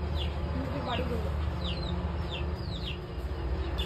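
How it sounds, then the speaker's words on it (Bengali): Small chicks cheep in repeated short chirps with hens clucking now and then outdoors in a rural North Bengal village, heard over steady background noise. "ছোট ছোট মুরগিগুলো কান্না করছে ঘরের ভিতরে যাওয়ার জন্য"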